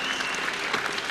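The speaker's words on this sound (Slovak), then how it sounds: "silnejší potlesk, prosím diváci" Dense audience applause at a Masters competition in Hradec Králové, a steady wash of clapping with no break over its brief length.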